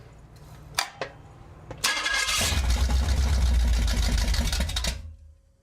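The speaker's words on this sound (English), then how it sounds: "Ignition on." A freshly rebuilt Pontiac 400 V8 fires up for break-in: a couple of clicks, a starter crank, then the engine catches into a loud rumbling run close by before cutting off.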